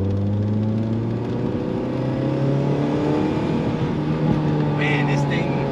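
A Honda Civic with a swapped G23 VTEC engine runs steadily nearby with a droning note and slowly shifting pitch. It sounds like a smooth, continuous rev under a faint background.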